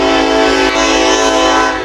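A train passes through Tupelo with its horn blaring, a loud, steady, sustained horn over rumbling rail noise, close by and continuous.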